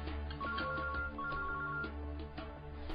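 A mobile phone left behind rings with a bright repeating electronic ringtone, a steady looping melody that is clear and fairly close, with no one talking over it.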